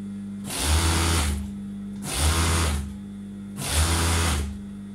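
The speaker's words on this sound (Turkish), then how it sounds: "Çok pratik bir şekilde tuniğimizi dikiyoruz arkadaşlar." A sewing machine stitches a tunic in three separate runs of about a second each, with short pauses between them. Each run is a steady, fairly loud whirring buzz with clear starts and stops, and no one speaks.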